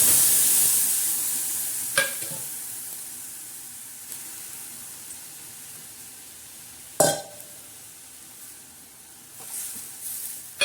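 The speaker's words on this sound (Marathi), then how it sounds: "लालसर जिरे असे भाजून तडकून घ्यायचे आहे." Cumin seeds tempering in hot oil for a coconut chutney, giving a steady faint sizzle with a couple of sharp spoon clinks and light scraping; no voices.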